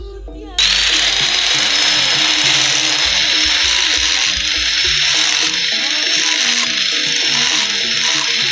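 Power drill used to drill into a barongan being repaired: a sharp start, then a loud continuous high whine that runs steadily for several seconds, with a faint voice underneath.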